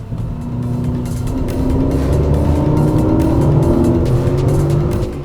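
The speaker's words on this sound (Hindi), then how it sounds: "इसको यहाँ से स्पोर्ट प्लस मोड में डालिए और थ्रॉटल प्रेस कीजिए, ये और भी मज़ेदार और लाउड हो जाता है।" An Aston Martin DBX SUV in Sport Plus mode revving and pulling hard, a loud continuous exhaust roar climbing in pitch through gear changes with no voices.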